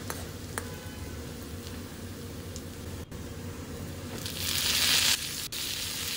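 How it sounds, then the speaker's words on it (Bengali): Ridge gourd sizzles in hot oil alongside browned potato and onion in a pan over medium flame, a steady close hiss that swells louder for a moment as pieces are stirred in. "ভেজে নেব ঝিঙেটাও তেলের সঙ্গে"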